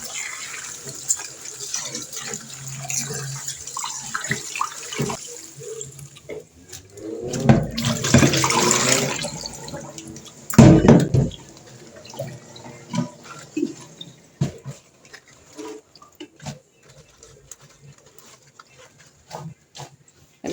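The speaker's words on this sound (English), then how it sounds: "So I'm just throwing this water off and just give them a rinse" Salt water is tipped off freshly harvested garden greens and the leaves are rinsed under running water in close splashing bursts, with a louder pour in the middle and scattered handling noises between.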